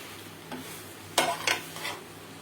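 A spoon stirs cardamom powder into a coconut laddu mixture in a pan, giving a few soft scraping strokes over a quiet, faint background.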